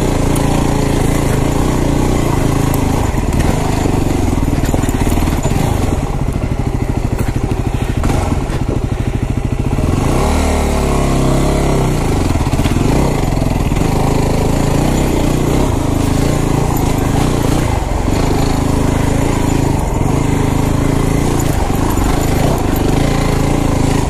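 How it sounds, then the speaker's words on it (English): A Yamaha WR250R dual-sport motorcycle chugging up a rough hill trail, its engine a steady, loud, close drone with lugging throttle changes and no talk over it. "Now we're just chugging up this little hill."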